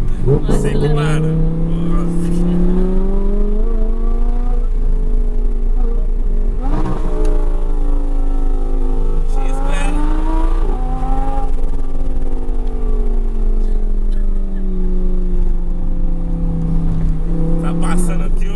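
Audi R8 sports car exhaust revving loudly and continuously, the pitch climbing and falling in long sweeps over the whole stretch, with voices faintly mixed in.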